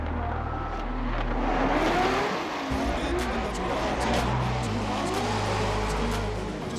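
Drift cars running in tandem around a race circuit at an RDS GP round, engines roaring and revving steadily close by with shifting pitch, with a voice talking over the engine noise.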